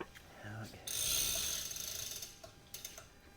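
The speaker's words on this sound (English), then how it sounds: "I'm going to go ahead and maybe run that nut back up on that" A ratchet runs a nut back onto a bolt on a vehicle axle, giving a burst of rapid clicking and whirring up close, then fainter scattered clicks.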